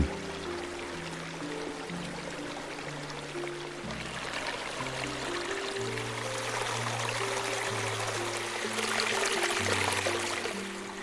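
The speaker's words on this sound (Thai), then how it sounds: "เราได้ยินเสียงของน้ำตกเล็กๆ ที่ไหลแรงขึ้น" Water rushes and splashes continuously from a small waterfall in a national park, a steady flowing roar with music playing along underneath.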